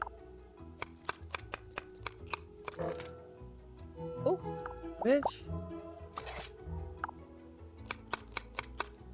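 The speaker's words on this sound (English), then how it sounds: "Okay, so chop cucumbers." Chopping cucumbers in the Desperate Housewives video game, a steady series of crisp knife taps mixed with game music and chimes, while a person talks over it.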